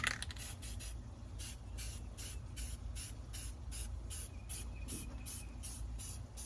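An aerosol can sprays light coats of paint onto an FMS 70mm F-18 Blue Angel model jet in a quick series of short, even hissing bursts, close up and without talking.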